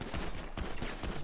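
Rapid close gunfire in a GTA V NoPixel gang fight in Grapeseed, a quick cluster of loud overlapping shots packed into barely more than a second.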